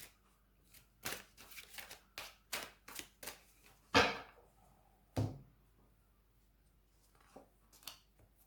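Tarot cards are shuffled and drawn, giving a string of crisp, close flicks and slaps with a few sharper snaps as individual cards are pulled.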